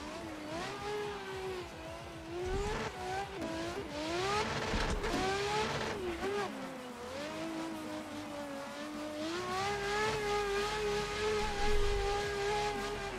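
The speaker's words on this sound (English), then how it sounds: "It's just this car has a nutty sound, it just sounds bananas." Engine of a car in a drifting video game, revving hard and constantly with rising and falling pitch as it accelerates and slides, loud and close throughout with some tire-squeal-like texture.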